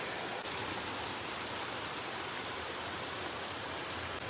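Heavy rain pouring in a village, a dense, loud, continuous hiss of water falling, with no voices.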